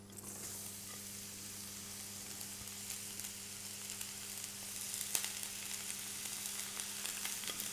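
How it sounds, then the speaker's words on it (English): Carrots and cabbage sautéing in a hot pan, a quiet, even sizzle that runs steadily with a faint low hum behind it and one small clink partway through. "We're just going to go with a really quick saute here."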